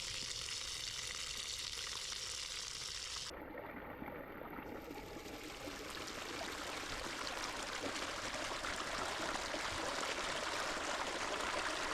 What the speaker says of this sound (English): Opened the tap at the other end, and it just siphons.